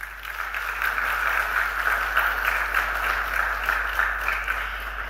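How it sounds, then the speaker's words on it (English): An audience at a Women in Aviation India event claps in a sustained, steady round of applause, fairly loud and even throughout, with no talking over it. "can we have a big round of applause for ourselves, please?"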